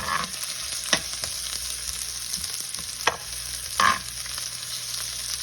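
Ginger, onion and garlic sautéing in a pan, a constant close sizzle with a few sharp clinks and scrapes of a stirring utensil, no voices.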